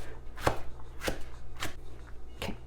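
A knife chops onion into small pieces on a cutting board, giving four crisp, evenly spaced chops close by with no talking.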